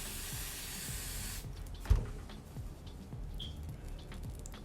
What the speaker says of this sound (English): You can also use some olive oil spray